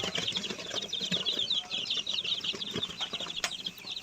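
Fourteen-day-old native chicks scurry around a brooder, their continuous high peeping chirps and light wing flutters close by and lively, with faint scuffling underneath.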